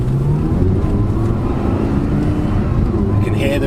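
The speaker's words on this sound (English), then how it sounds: "You can hear the V10 whirring up" An Audi R8 with its V10 Lamborghini engine whirs up, a loud, steady, close engine drone held at a constant level through the short stretch.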